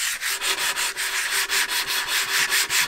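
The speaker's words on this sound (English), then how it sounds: "I'm going to give everything a sand with an orbital sander" An orbital sander works over the wooden cabin sole of a boat, a close, steady abrasive rasp pulsing in even, rapid strokes with no talk.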